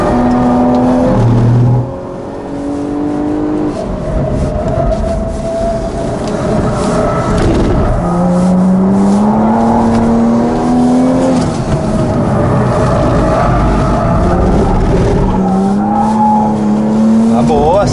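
A Jaguar XE S is driven hard on a track lap, its engine revving up and down in sweeping rising and falling tones with tire noise, while someone talks over it throughout.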